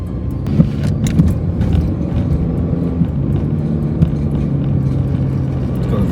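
A car travels fast along a road, with a steady loud rumble of engine and road noise and a few faint knocks, continuous and close.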